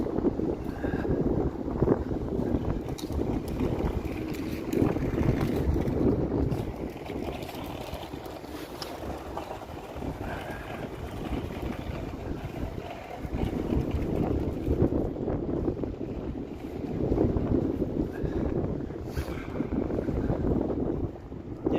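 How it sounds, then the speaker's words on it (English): Strong wind gusting among tall downtown Toronto buildings in the evening, a steady loud rumble of wind buffeting the microphone that swells and eases throughout. "the wind is nasty as F here."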